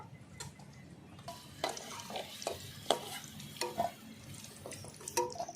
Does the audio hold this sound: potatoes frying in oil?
yes